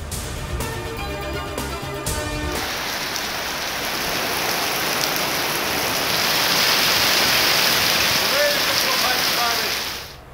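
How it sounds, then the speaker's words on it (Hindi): Heavy monsoon rain pours down in a dense, steady hiss that grows louder, following a brief burst of music at the start, in cities of Sindh, Pakistan. "सिंध के मुख्तलिफ शहरों में मूसलाधार बारिश।"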